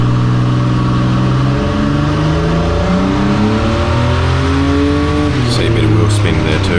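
A car engine on a dynamometer at full throttle, a loud sustained roar that climbs steadily in pitch as the revs build, very close, with faint tire chirps near the end.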